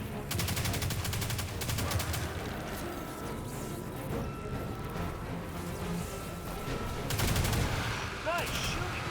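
Rapid bursts of automatic gunfire from the Destiny 2 video game, dense and continuous throughout with a few sharper volleys near the end, with a voice talking over part of it.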